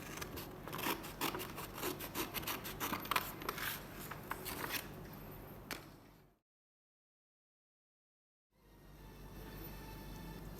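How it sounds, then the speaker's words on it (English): Scissors cut a paper fish body out for a craft, making close, rhythmic rasping snips for about six seconds, then a brief dead silence followed by faint room noise. "let's cut the fish body"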